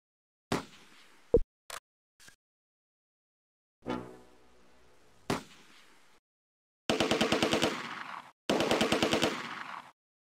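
Machine-gun fire in the wartime strategy game Close Combat: A Bridge Too Far. A few scattered single shots come first, then two loud rapid-fire bursts of about a second each, fairly close.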